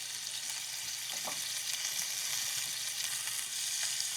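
Shrimp sizzle in a pan as they cook, a steady, bright, close frying hiss with faint crackles and no talking.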